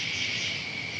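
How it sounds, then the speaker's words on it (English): Crickets chirp in a steady, continuous high trill, dense and even throughout, with no other sounds. "crickets"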